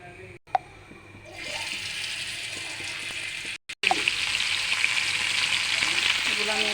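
Food frying in a pan starts quietly, then a bright, full sizzle swells in and carries on steadily, briefly cut by a couple of abrupt dropouts before it resumes just as loud.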